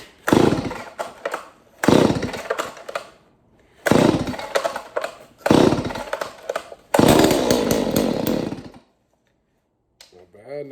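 A Stihl 019T chainsaw cold-starts after a fuel system overhaul, roaring loud and close in five revving bursts separated by brief drops before it cuts out to quiet.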